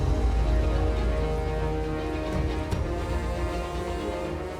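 Steady rain pours down in a dramatised Ramayan scene, with broadband patter and rumble holding evenly throughout and no speech.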